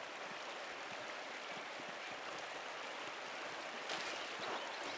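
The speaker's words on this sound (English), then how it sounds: "The waterfall must flow down from the snow melt in the mountains above the abbey" Waterfall in a video game, fed by mountain snow melt above an abbey, gives a steady broadband rush of falling water that stays even and continuous throughout, with a slight swell near the end.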